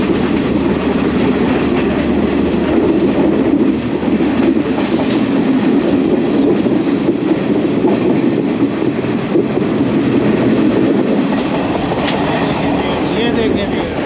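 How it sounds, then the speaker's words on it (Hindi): A train rolling along a curving track near Kandy, Sri Lanka, heard from on board as a loud, steady rumble with a faint rhythmic clatter of wheels, broken now and then by brief metallic squeals. "ट्रेन बल खाती हुई जाती है और उसका अजीब ही एक नज़ारा होता है"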